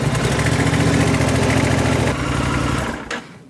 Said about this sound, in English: We're going to start the bike. Let it run for a few seconds.